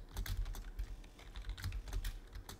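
Quick bursts of typing on a computer keyboard, soft close-up key clicks in irregular clusters, with no voices.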